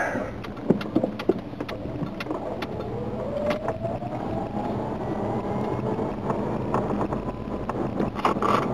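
A homemade battery-electric pickup truck drives in first gear with a rising motor whine building steadily, under wind and road rumble heard from inside the cab with windows partly down.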